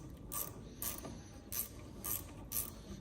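11mm wrench working loose a rear brake flexi hose fitting on a Vauxhall Meriva caliper, five evenly spaced faint metallic clicks with quiet ratcheting between, close and alone with no talking.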